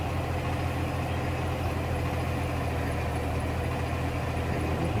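A vehicle engine labours under load with a steady, heavy low-pitched drone that stays continuous and close throughout, with no voices.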